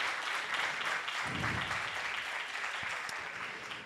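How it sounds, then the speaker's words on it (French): An audience claps for a conference speaker, Flavien, at a digital talk event. The applause is steady and moderately distant throughout, with a few sharper individual claps standing out near the end. "Une salve d'applaudissements pour Flavien"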